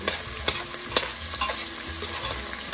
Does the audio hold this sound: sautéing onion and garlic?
yes